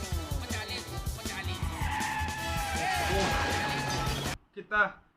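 A bike chase in a film scene brings a loud roar of engines and long tyre skids, with crashing noise, then a sudden cut to a short burst of talk.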